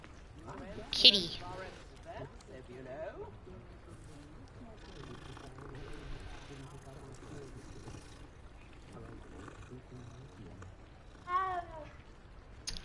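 In the video game Hogwarts Legacy, a cat gives two short meows, one near the start and one near the end, while a person talks over the game's quiet background.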